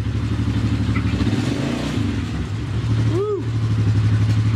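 A repaired ATV engine runs steadily at a loud, close idle after the machine is put in gear, with a brief whooping exclamation from a person partway through.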